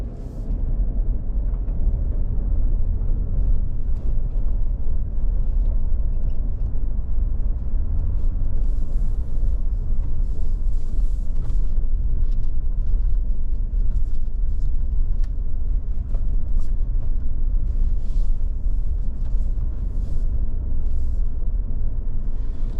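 A 2025 Ford F150 XLT Hybrid pickup rolls over dirt, giving a continuous close, loud low rumble of engine and tyres on loose ground, with no talk.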